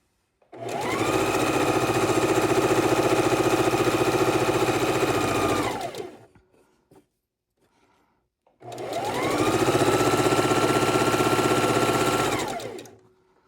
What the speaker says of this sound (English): And now we're going to chain stitch these.